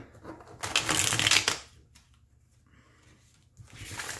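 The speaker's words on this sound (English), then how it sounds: "It rifle shuffles really well." A matte-finish tarot deck rifle-shuffled up close, a dense papery flutter of riffling cards, then a quiet pause before a second shuffle begins.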